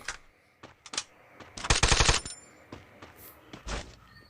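Rapid MAC-10 submachine gun fire in the Free Fire video game, heard as scattered single shots and then one dense burst of about six quick rounds, followed by a few more sharp shots, all fairly close.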